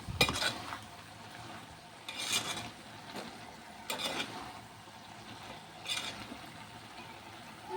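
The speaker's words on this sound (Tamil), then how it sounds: "இதையும் சேர்த்து நல்லா வதக்கி விட்டுடலாம்" Onions, tomatoes, green chillies and curry leaves are sautéed in a pan for a chicken fry, with a few distinct spoon-stirring and scraping bursts over a quiet, faint background sizzle.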